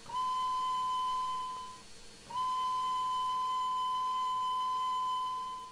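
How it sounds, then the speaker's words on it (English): Steam locomotive whistle in Trainz 2022, a high, slightly squeaky steady tone blown twice, a short blast then a long one that fades out without a clear ending. "Whistle, it's alright. High pitch, a little squeaky."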